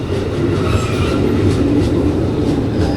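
A train rumbles steadily through a station on the Nambo line, a continuous loud low roar with faint rail noise and no pauses.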